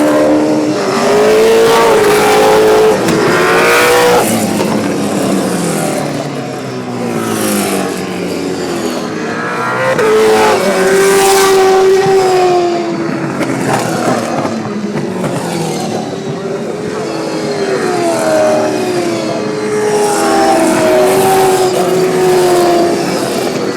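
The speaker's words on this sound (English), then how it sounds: "You see V8 Supercars doing rolling starts." V8 Supercars race cars at Queensland Raceway roar through a rolling start, several engines rising and falling in pitch as they accelerate and pass, loud and continuous, with no talk.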